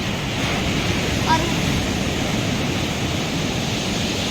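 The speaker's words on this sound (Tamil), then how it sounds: "அலைகள் வந்து அப்படியே அடிச்சுட்டு போயிடுது" Sea waves breaking on Varkala beach, a steady broad wash of surf that stays close and fairly loud throughout, with a brief faint tonal chirp near the start.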